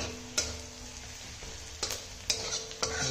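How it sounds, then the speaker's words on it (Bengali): Onions dropped into hot oil frying in a home kitchen pan, a steady close sizzle broken by a few sharp crackling bursts, with no one talking. "এই তেলের মধ্যে দিয়ে দিলাম পেঁয়াজ"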